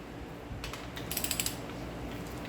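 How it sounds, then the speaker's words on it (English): A torque wrench ratcheting in a quick run of about eight close clicks while crankshaft main cap bolts are tightened on a 350ci engine during a bottom-end rebuild, faint and quiet in a still shop. "These last two, once they are torqued down, our crank will officially be installed."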